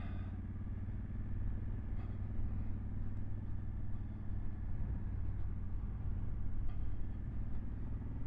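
A 2023 Honda CRF1100 Adventure Sports motorcycle cruises in second gear near 30 mph, its engine a steady low rumble under continuous road and wind noise.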